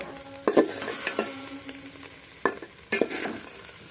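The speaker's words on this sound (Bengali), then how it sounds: "এটাকে নেড়ে নেব" A spoon stirs khichuri with turmeric in a sizzling pan: four or five scraping strokes sound at uneven intervals over a steady, soft frying hiss.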